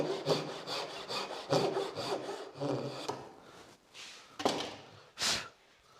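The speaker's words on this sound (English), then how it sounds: "with a piece of pine like this, it's probably worth just doing a few little relief cuts to help" A pull saw makes short relief cuts in a piece of pine, with a rhythmic series of rasping back-and-forth strokes close up, then a few slower, separate strokes near the end.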